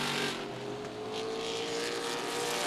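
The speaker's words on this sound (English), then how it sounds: "that car is sick. You can hear that car. It is barely hanging on." An ailing race car engine on a racetrack drones steadily and loudly with a rough, constant tone, barely holding together as it runs.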